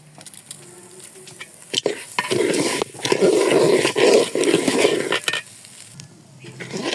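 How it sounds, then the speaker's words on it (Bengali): Polao rice frying in a pan as it is stirred, a dense rustling sizzle with scraping spoon strokes in the middle stretch and a few clinks at either end, close and moderately loud, no talking. "এখন চালটা আমি ভালোভাবে ভেজে নেব"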